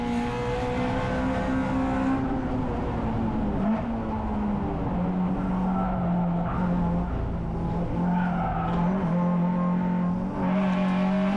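Onboard a Honda Integra DC2 Type R race car at Cadwell Park, tyres locking up under braking, with a steady loud engine drone and a tonal tyre squeal running throughout.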